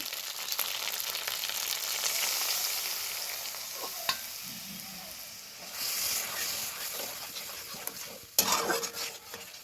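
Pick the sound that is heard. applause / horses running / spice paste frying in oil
spice paste frying in oil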